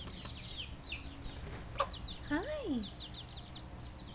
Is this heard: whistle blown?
no